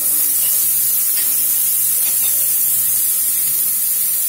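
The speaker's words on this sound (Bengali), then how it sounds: "ফার্স্টে দিয়েছি আলু ফ্রাই করার জন্য একটা একটা করে ক্যারোট গাজর অ্যাড করছি" Potatoes and carrots frying in a pan, a loud, steady, spray-like sizzle and hiss that holds constant throughout with no speech.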